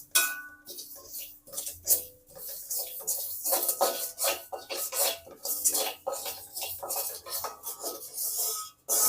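Repeated scraping and rattling of a spatula stirring dry spices in a metal wok, quick uneven strokes with light metallic clinks, close and fairly loud.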